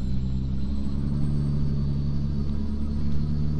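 A long 70-tonne road train truck grinds steadily along a narrow mountain road with sharp turns, its low engine rumble and drivetrain drone continuous and close throughout, with no voices.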